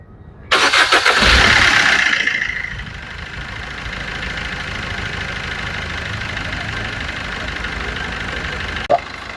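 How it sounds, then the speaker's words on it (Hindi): A Maruti Suzuki Brezza diesel engine starts with a loud burst close by, then settles into a steady, slightly knocking idle that continues without talk. "अभी गाड़ी स्टार्ट हो गई, बढ़िया साउंड है, अच्छा सा बिल्कुल रिस्पॉन्ड कर रही है।"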